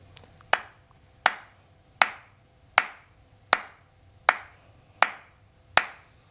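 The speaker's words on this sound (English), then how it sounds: "Now I wanna just clap a rhythm" Hands clap a steady rhythm of quarter notes, eight sharp, evenly spaced claps that ring briefly in a room, loud and close with no talking between them.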